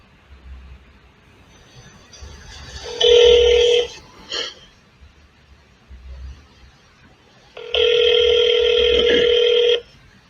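A telephone call rings out on speakerphone, two long electronic ringing bursts separated by a pause, fairly loud and close over faint room noise.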